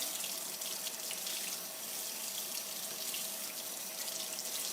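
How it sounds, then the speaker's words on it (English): Hands washed under a running kitchen tap, a steady close hiss of flowing water splashing into the sink, continuous and alone without speech. "I'm washing my hands again."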